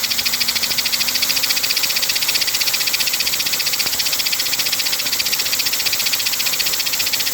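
An American Flyer 300 toy locomotive motor runs at 16 volts, giving a steady, continuous whirring buzz with a faint rattle, close and even throughout with no talking.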